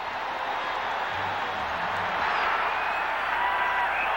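A crowd at a Fenway Park baseball game cheering and applauding, a dense steady roar of voices and clapping that swells slightly and holds for several seconds, heard from within the stands.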